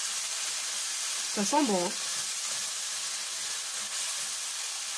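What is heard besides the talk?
deglazing pan with red wine, sizzling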